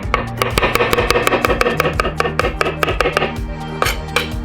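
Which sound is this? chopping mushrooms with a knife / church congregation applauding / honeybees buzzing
chopping mushrooms with a knife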